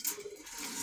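Pigeons cooing at a bustling bird market in Dhaka, soft low throaty coos over a hissy background, fairly faint and brief with no talking.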